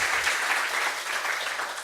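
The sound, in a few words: applause for a conference talk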